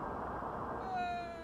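A pet cat meowing faintly indoors, one drawn-out tonal meow rising over a low background hum, distant and quiet with no speech over it.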